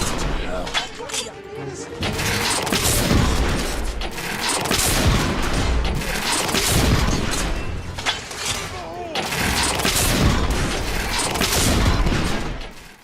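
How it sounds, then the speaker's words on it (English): Heavy artillery fire and battle din in the video game The Order: 1886, with booms and gunfire rumbling continuously under a voice speaking over it. "We are witnessing heavy artillery fire at the moment."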